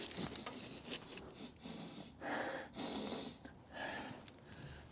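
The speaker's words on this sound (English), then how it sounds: "Sniff test" Someone sniffs repeatedly inside an old 1972 Austin van, a series of short, close, breathy inhalations with brief pauses between them and a faint rubbing rustle underneath.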